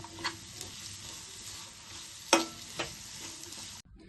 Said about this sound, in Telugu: లాస్ట్గా ఉల్లిపాయలు వేసి కలుపుకొని దించేసుకుందాం.